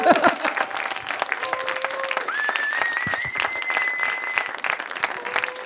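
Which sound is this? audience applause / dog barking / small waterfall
audience applause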